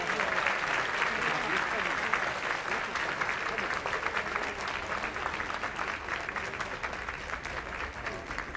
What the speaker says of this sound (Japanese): 皆様今一度盛大な拍手をお送りください。